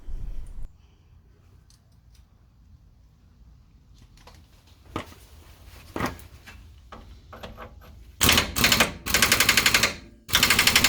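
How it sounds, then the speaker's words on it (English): Pneumatic impact wrench on its lowest setting, loosening a nut on a C3 Corvette lower control arm. Two loud, close rattling hammering bursts come near the end, after quieter clanks and handling noises in a garage. "I like to start with the lowest setting on my impact gun and see if that will be enough to loosen the nut"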